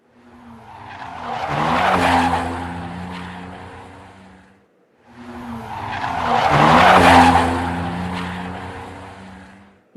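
A Tonino Lamborghini golf cart with universal drive spins through an infinity ride, its tires squealing and skidding in two long swells that rise, peak and fade, close and loud, with no talk.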